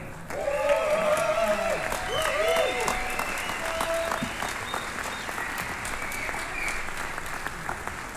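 Concert audience applauding musicians after a hip-hop set by a brass fanfare band, sustained crowd clapping with some cheering and whoops, moderately loud and steady throughout.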